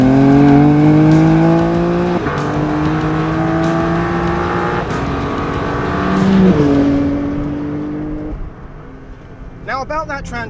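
A BMW M4 Competition engine revs hard while driving, repeatedly climbing in pitch and dropping at each gearshift before easing off, loud and close, with a few faint ticks near the end.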